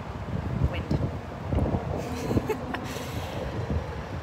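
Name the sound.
wind blowing during a motorcycle trip stop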